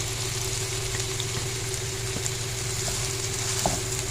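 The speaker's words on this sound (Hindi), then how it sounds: "प्याज को हम मीडियम फ्लेम पर कुक करेंगे ताकि अच्छे से ये सॉफ्ट हो जाए" Finely chopped onion fries over a medium flame for a fish curry, giving a steady, close, even sizzle with a low background hum and no talk.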